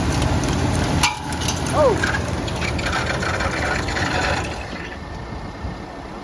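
A Dodge engine that hadn't run in six years cranks over with a loud, rough mechanical churning that falters and drops as it locks up, followed by a brief startled exclamation.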